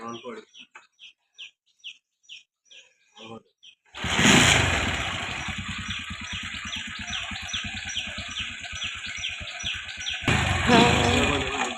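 Short chirps come first, then an Activa scooter's small engine starts up and runs with a steady, buzzing idle, close by, with birds faintly audible behind it.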